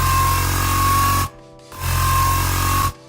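A synthesized hybrid trap bass built in Serum, FM-modulated for a gritty, chainsaw-like timbre, plays as a loud sustained tone in two long held notes separated by a short gap.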